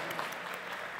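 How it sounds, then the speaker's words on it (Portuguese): An audience at an awards ceremony for a nativist music festival claps in a dense, even burst, brief and continuous throughout. "Salve de palmas."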